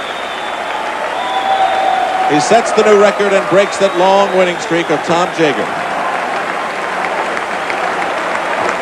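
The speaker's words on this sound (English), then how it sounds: "A standing ovation for Matt Biondi from this crowd at the Texas Swimming Center." A crowd at the Texas Swimming Center rises in a standing ovation at the 1985 NCAA National Swimming and Diving Championships, loud sustained applause and cheering mixed with a commentator talking over it, then fading.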